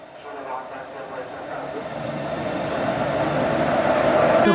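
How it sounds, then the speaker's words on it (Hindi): A locomotive reversing away from the Howrah to Raxaul Mithila Express at a station, its engine rumble and rail noise steady and gradually growing louder, with a faint whine toward the end. "लोकोमोटिव रिवर्स होके चला गया"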